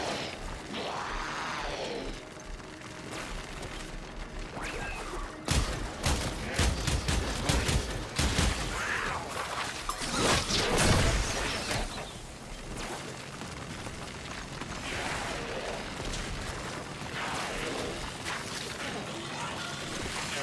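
Enemy gunfire in the video game Warframe, rapid bursts of shots and impacts that cluster loudly in the middle and fade to scattered fire, over a constant ambient hum with faint voices at times.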